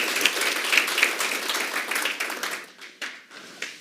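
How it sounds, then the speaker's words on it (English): An audience at an authors' forum gives a burst of steady clapping that fades toward the end, indoors and fairly loud, with a few individual claps standing out at the close. "Let's clap hands for Abner."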